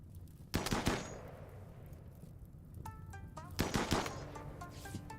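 Sharp gunshots in a video game, two separate clusters of loud cracks with a pause between them, over faint background tones and chirping electronic sounds.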